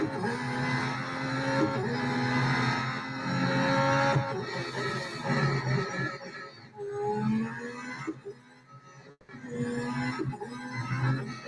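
Formula 1 car engines in the racing video game Real Racing 3, loud high-pitched whining revs that rise and fall through gear changes, sustained throughout with brief dips, no talk.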